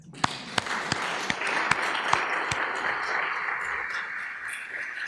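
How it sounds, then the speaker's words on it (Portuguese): An audience in a church gathering breaks into applause, a steady patter of many hands clapping with a few sharper individual claps near the start, moderately distant and fairly faint. "Uma salva de palmas para a Áurea."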